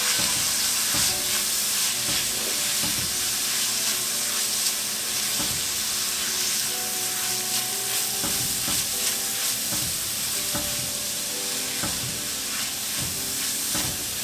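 Spices sizzling and being stirred in a hot pan for a taco tortilla soup: continuous frying hiss with repeated scraping strokes of a utensil, close and steady, with no voices.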